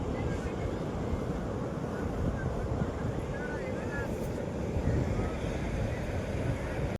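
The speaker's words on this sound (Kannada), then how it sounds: "ಕೋಡಿ ಸಾಕಾಗಿ ಜೋರಾಗಿ ಹರಿತೈತೆ ನೀರು ನೋಡ್ರಿ" Water rushes hard over the Vani Vilas Sagar dam spillway in a steady, loud, continuous roar, with wind buffeting the microphone throughout.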